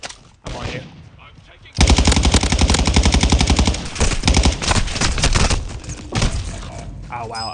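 Rapid automatic gunfire from several directions in the video game Modern Warfare II, loud and sustained bursts after a quieter opening, with brief lulls and renewed volleys.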